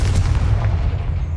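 A Confringo fire spell blast in the Hogwarts Legacy video game, heard as a heavy, booming low rumble that sustains loudly through the short moment before fading slightly, with no voices.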